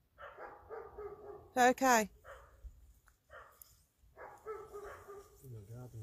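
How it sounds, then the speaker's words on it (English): Two dogs bark in the distance near The Bridestones, a short loud burst of barking in the middle, while people talk quietly before and after. "there's two dogs over there going nuts"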